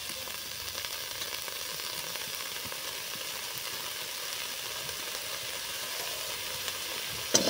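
Potato greens frying in a pan with cumin and green chilli in a village kitchen, a steady close sizzle running throughout with a small clatter near the end.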